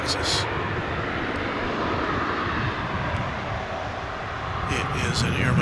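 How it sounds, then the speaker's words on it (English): American Airlines Airbus A321 taking off, a steady loud jet engine roar with broad rumble, a voice briefly audible over it. "So here goes American Flight 2759 off to San Antonio, Texas."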